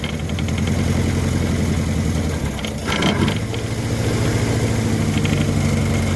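An abandoned classic car engine running and struggling to hold an idle, loud and close, its uneven rumble dipping and surging midway before settling back into a rough, lumpy chug.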